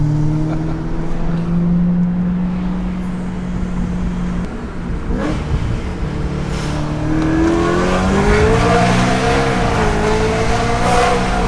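A 700 hp supercharged Frozen Silver BMW E92 M3 accelerates hard, its engine and supercharger whine rising steadily in a loud, close, continuous drone with no talk.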